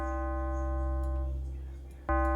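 Short FM-synth arcade credit tone from the VOPM plugin's Credit OPM patch, a steady buzzy harmonic note that fades slightly before a brighter second note cuts in sharply near the end, heard alone.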